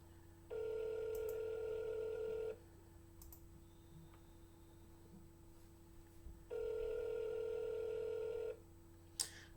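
A telephone call to a number plays two long, steady ringing tones separated by a quiet pause, clear and alone with no talk.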